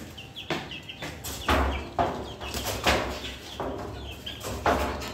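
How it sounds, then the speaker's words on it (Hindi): Young chicks cheep and peep close by in a poultry setting, with repeated bright chirps, a few louder clucks and occasional knocks over a busy background. "अब देखिए चूजे हैं यहाँ"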